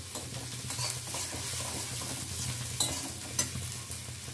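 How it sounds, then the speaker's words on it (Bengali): Chopped onion frying in a pan with powdered asafoetida added, a steady soft sizzle with occasional stirring scrapes and a couple of sharper clinks, close and continuous. "পেঁয়াজ কুচিটা আমি একটুখানি ভেজে নেব।"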